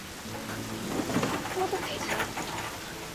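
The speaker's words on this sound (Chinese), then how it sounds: "下很大雨" Heavy rain pours steadily in a night-time street scene, a quiet, even hiss with faint scattered patters and soft voices in the background.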